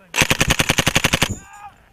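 Soldiers of the British Army Royal Gurkha Rifles firing, a fast loud burst of about a dozen close automatic gunshots in a steady rhythm, then a brief fading echo.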